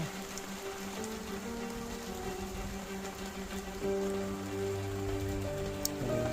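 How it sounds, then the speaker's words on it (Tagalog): Steady rain pattering on a surface, a continuous dense hiss with a low hum beneath, constant throughout. "Patak ng ulan, guys. Malakas."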